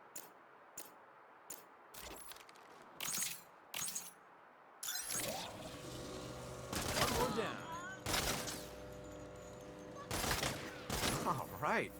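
Quantum aperture gun in the Saints Row video game firing at live targets: sharp, repeated bursts of gunfire with glassy shattering and clinks, spaced irregularly over a background of game ambience and faint voices.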